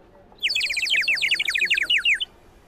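A children's toy bird whistle sold at a 2023 international trade fair imitates a sparrow, giving a rapid, continuous run of bright chirps for about two seconds, loud and close, with no talking.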